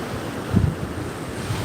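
Ocean waves washing onto a cool, cloudy-morning beach in Florida, a steady close wash of surf with a slightly louder swell midway, mixed with gusty wind buffeting the microphone; no voices.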